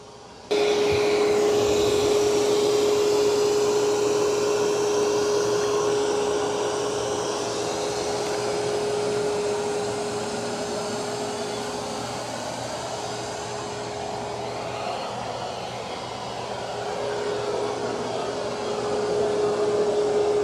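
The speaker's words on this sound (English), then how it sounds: "It's doing a good job of vacuuming." An Ecovacs Deebot N20 Plus robot vacuum runs over carpet with a steady whirring suction drone and a constant high whine, holding fairly even with slight swells, and nobody speaks.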